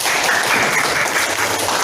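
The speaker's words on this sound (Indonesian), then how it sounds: "Kasih tepuk tangan dulu." A classroom of students claps together, a loud, dense burst of applause lasting about two seconds with no pauses.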